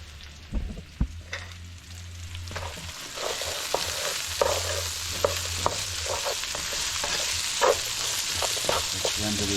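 Butter sizzles in a hot pan while stuffing is started, a steady frying hiss building over several seconds with sharp clinks and scrapes of a utensil against the pan.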